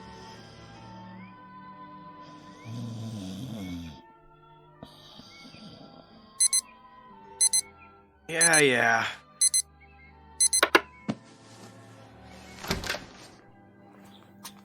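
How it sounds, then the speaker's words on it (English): An electronic snooze alarm clock rings in sharp repeated bursts, with a longer loud ring in the middle, thuds and brief talk around it, in a radio drama. "That was the snooze alarm."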